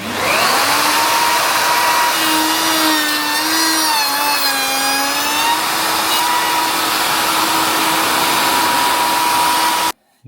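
A loud, high-pitched whining router on a router sled runs steadily through wood, its pitch wavering briefly under load before cutting off abruptly at the end.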